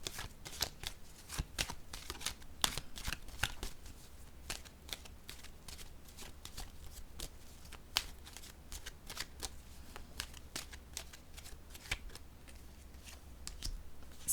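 Tarot cards shuffled by hand close up, a rapid run of crisp riffling snaps and slaps repeating steadily throughout with no voices.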